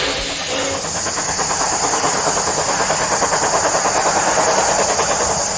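The Mary Valley Rattler steam train rumbles past with a steady broadband hiss of steam and a rhythmic clatter of wheels, loud and continuous throughout.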